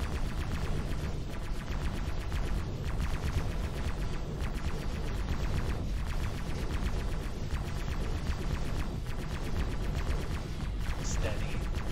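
Turret and weapon fire during a space ship boarding assault in the video game X4 Foundations, a dense continuous barrage of rapid booming shots over a low rumbling drone.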